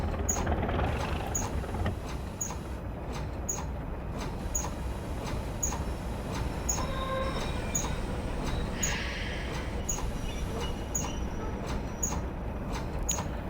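A Class 37 locomotive in Train Simulator 2021 rolls steadily into a platform with a constant low rumble, faint high squeals and clicks rising as it brakes, with no talking.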